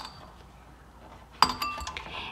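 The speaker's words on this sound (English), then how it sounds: "I'm gonna take off my ice cubes" Ice cubes are lifted off a color chromatography art experiment, giving a sudden sharp clink followed by a few lighter glassy taps and rattles nearby after a quiet stretch.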